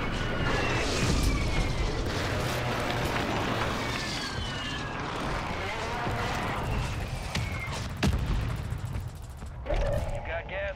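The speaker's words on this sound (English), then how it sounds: "Friendly precision airstrike inbound." Precision airstrike in a Call of Duty battle royale match at Fortune's Keep: constant loud roar of explosions and aircraft sweeping overhead, with scattered gunfire and heavier booms near the end.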